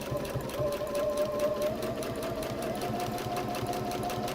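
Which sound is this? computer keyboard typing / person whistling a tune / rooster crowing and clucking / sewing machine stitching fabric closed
sewing machine stitching fabric closed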